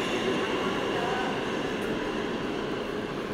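Inside the Steinway Street subway station in Astoria, Queens, a train rumbles steadily with a dense, continuous roar and faint wheel noise, heard close and loud throughout.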